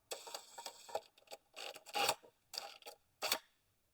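A 12 mm drill bit bores out an oversized tapped hole during a repair on an Audi R8, heard as a series of short, rasping drilling bursts separated by brief pauses, close and fairly quiet.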